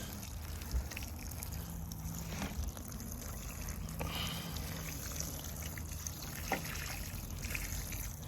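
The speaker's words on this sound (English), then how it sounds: "I'm going to give it water too." Water trickles and splashes steadily while a fig tree is watered, a continuous soft wash of flowing water with no voices.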